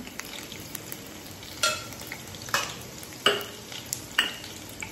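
Ginger pieces, a few garlic cloves and mint drop into hot oil in a pan, giving a steady close sizzle with a handful of sharper crackles and spoon knocks at intervals, with no talk.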